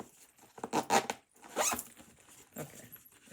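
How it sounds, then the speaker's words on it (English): A stiff zipper on a craft project bag is pulled open and shut in several quick rasping strokes, close and clear, with no talk. "I'm having troubles with zippers today."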